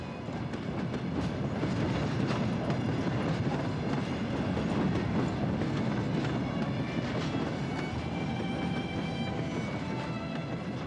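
The Aurora passenger train from Saint Petersburg to Moscow rolls along the rails, heard from inside as a steady, loud rumble with a continuous rhythmic clatter and no talk.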